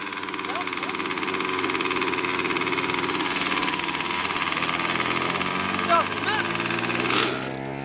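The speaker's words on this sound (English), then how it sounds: "Don't rev it too much, you'll run out of fuel." A model airplane engine runs close by at a steady, buzzing high pitch, with a couple of short revs near the end as the throttle rises and falls.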